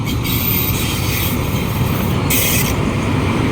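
A Thai railway locomotive rumbles steadily and loudly nearby in Nong Khai, a continuous heavy drone with hissing bursts over the top.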